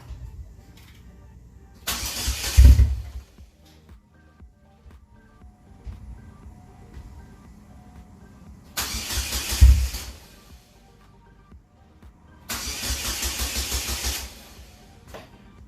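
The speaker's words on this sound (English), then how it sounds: "and then we got to start the car till it dies out." A Chevrolet Cobalt SS cranks three separate times with its fuel pump relay pulled, each a short burst of starter whirring that catches briefly before dying, with quiet pauses between attempts.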